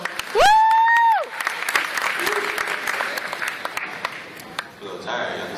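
An audience at a Voorhees College ceremony claps steadily through the moment while a voice whoops loudly at the start, with crowd noise underneath.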